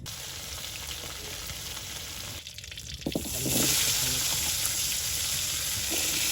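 Potatoes fry for a fish curry, a steady hiss of sizzling oil that briefly quiets, then swells louder and fuller as more ingredients go into the pan.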